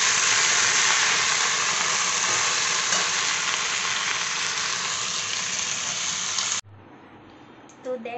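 Okra and potatoes fry in a pan with a loud, dense, close sizzle that holds steady for several seconds, then cuts off abruptly. Faint clinks and rustles follow in near quiet.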